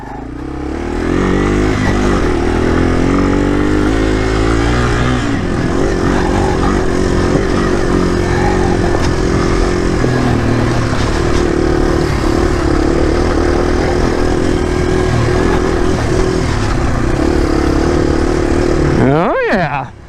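A Yamaha TW200 motorcycle on Kenda K257D tires rides over dirt with a loud, constant engine drone and rumble close up, and a rider speaks over it.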